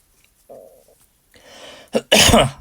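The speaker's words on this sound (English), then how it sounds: "Sorry that I'm coughing, guys." A sharp, forceful cough bursts out at the end, preceded by a few quieter throaty sounds and breaths.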